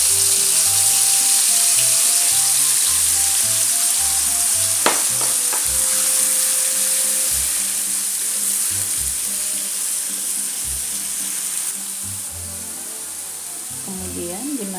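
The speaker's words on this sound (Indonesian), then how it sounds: "Mulai menumis bumbunya." Ground spice paste sautéing in hot oil for pesmol tilapia gives a steady, close sizzle with a brief utensil scrape in the middle, running continuously with no talk.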